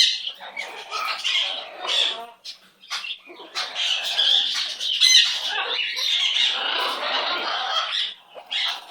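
Pet bird squawking loudly and almost continuously, in harsh bursts with short pauses, close to the microphone; a person speaks softly to it.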